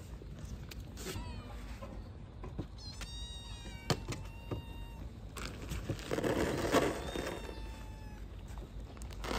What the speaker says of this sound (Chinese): 刚刚发现一只小猫坐在这里，居然不敢上去吃